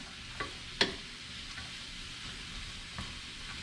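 Carrot and celery mirepoix sizzles softly in a soup pot with a low, even frying hiss, broken by a few light scraping stirs of a spoon.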